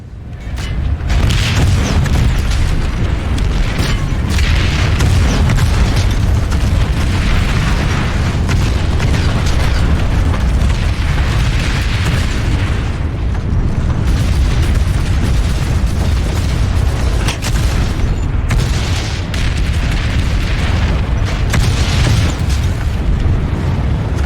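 Heavy tank cannon shots from a Prowler tank in Planetside 2 boom one after another at close range, deep blasts layered over a constant loud rumble of battle.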